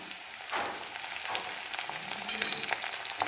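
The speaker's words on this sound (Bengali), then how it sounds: "রসুনগুলো দিয়ে ফ্রাই করে একটু, তারপরে শিমগুলো দিয়ে দেবো।" Garlic and beans frying in hot oil, giving a steady close hiss and crackle with a few brighter pops, heard alone.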